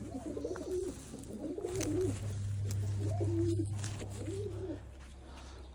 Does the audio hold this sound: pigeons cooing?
yes